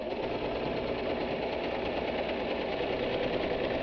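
A sewing machine stitches in reverse on a fabric pencil case, a continuous rapid mechanical chatter of the needle at a steady speed, close and even throughout.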